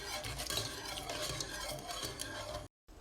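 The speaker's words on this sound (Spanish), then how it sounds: "Lo ponemos a calentar a fuego suave y revolviendo." Milk heating in a pot over low heat is stirred continuously with a utensil, a close, steady scraping and swishing that cuts off briefly near the end.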